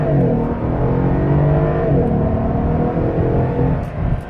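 A 2014 Mercedes SL 550's engine revs hard and accelerates from a standstill in manual mode, pitch climbing through the gears with a brief shift dip, loud and close throughout.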